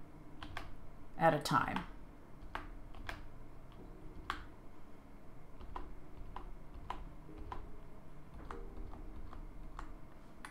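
Computer keyboard keys pressed one at a time while building in the game Rising World, sparse quiet clicks spaced a second or so apart, with someone speaking briefly near the start.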